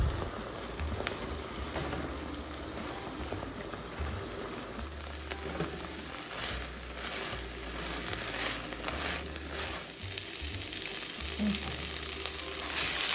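Vegetables cooking down in a pan with a bay leaf, a soft, steady sizzle and crackle throughout, fairly quiet, with a low hum in the background and no talking.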